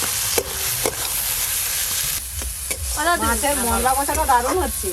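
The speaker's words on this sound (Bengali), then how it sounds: "এবার দিয়ে দেব আমাদের বাগানের মটরশুঁটি টমেটো কুচি মশলার সঙ্গে খুব ভালো করে এবার আরেকটু কষি" Garden peas and chopped tomato being sautéed with spices in a hot pan, with a steady close sizzle and frying crackle, a few scraping stirs of a spoon, and bubbling spitting that grows busier toward the end.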